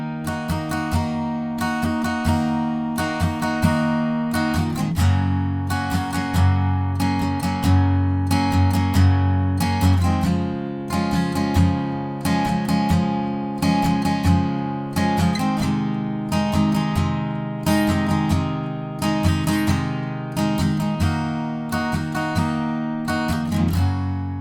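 Acoustic guitar strumming a pre-chorus chord progression, steady rhythmic strokes with sharp attacks, close and loud, played alone with no talking.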